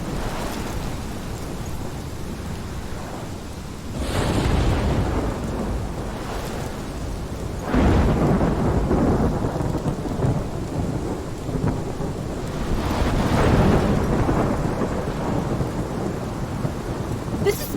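A heavy thunderstorm in the video game Life is Strange: steady rain pours throughout while several deep rolling thunder rumbles swell and fade, loud and close, with no one speaking.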